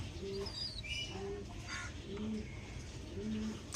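Pigeons, a Punjabi breed of high-flying birds, coo softly in a low, repeated rhythm, several soft calls overlapping close by against steady background noise.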